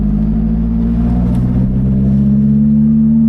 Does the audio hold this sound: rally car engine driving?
yes